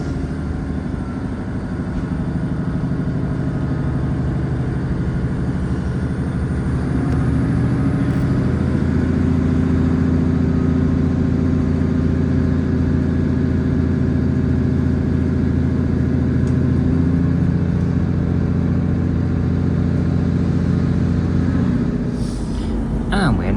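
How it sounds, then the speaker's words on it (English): Onboard a Northern class 150 diesel train pulling out of Manchester Victoria, a steady droning engine and rolling rumble that builds and holds throughout, close and continuous. "we are now departing Manchester Victoria"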